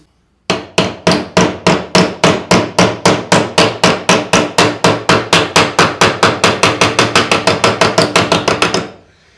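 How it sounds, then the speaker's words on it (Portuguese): Steady hammering on metal with a larger hammer, roughly thirty loud, close blows at a brisk, even pace that speeds up slightly before stopping abruptly, with no voices. "Vou pegar um martelo um pouquinho maior"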